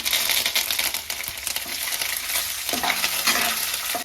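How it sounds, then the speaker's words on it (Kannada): Peanuts, chana dal, urad dal and curry leaves fry in a pan for chitranna, giving a steady, close, loud sizzle with scraping stirs throughout and no talking. "ಇವಾಗ ಈ 3 ಐಟಮ್ಸ್ ಹಾಕೊಂಡ ನಂತರ ನಾನು ಇದನ್ನ ಫ್ರೈ ಮಾಡ್ಕೊಳ್ತಾ ಇದ್ದೀನಿ"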